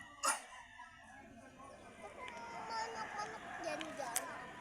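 A rooster crows faintly amid a busy crowd at a cockfighting arena in Taytay, Rizal, with chatter and scattered noises in the background.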